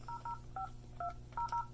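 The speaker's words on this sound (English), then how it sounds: "Enter password and pound key." Keypad tones from an Avaya J179 IP phone as a password is keyed in: about seven short dual-pitch beeps in an uneven rhythm, clear and close, with a faint steady hum beneath and no voices.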